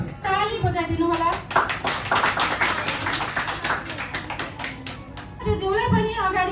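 An audience bursts into sustained applause at an annual community celebration ceremony in Dubai, many hands clapping together for several seconds, with a voice speaking before and after.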